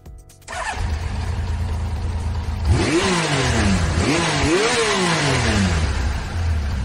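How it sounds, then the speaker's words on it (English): A motorcycle engine idles, then revs sharply three times, each rise in pitch falling back, close and loud. "Motorcycle."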